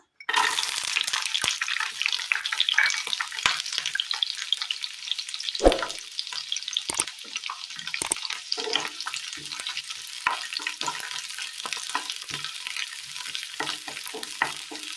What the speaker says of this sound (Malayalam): എണ്ണയിലേക്ക് സബോള അരിഞ്ഞത് ഇട്ട് കൊടുക്കാം